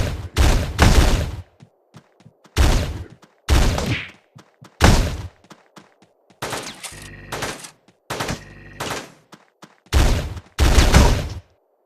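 Shotgun blasts from the video game Teleglitch ring out in loud, punchy bursts separated by short silences, with one stretch of rapid buzzing fire in the middle.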